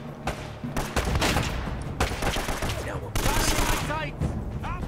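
Enemies fire shotguns in Uncharted: Drake's Fortune, a loud, sustained volley of overlapping gunshots and blasts, with a player's voice shouting over the fire.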